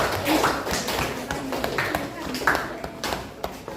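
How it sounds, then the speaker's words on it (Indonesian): Clapping in a classroom follows a group presentation on sermons and preaching, scattered uneven claps from several students mixed with talking voices throughout. "Tepuk tangan untuk"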